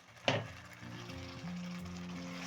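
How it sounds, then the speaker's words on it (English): Blended tomatoes pour into a hot pot of browning ingredients while cooking njahi black beans. A sharp splash gives way to a soft, steady sizzle, close and fairly quiet. "I'm going to add in my blended tomatoes to the pot"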